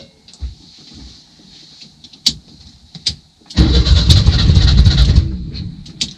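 An old VW Bus engine that sat for over 30 years cranks with a few brief starter bursts, then catches at mid-clip and runs loud and rough, sputtering near the end.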